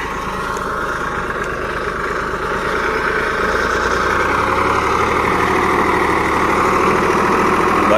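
A 35 HP Greaves 353 tractor engine running with a three-bottom mould-board plough attached, a steady close diesel drone with low rumble and vibration that holds evenly throughout, no talking.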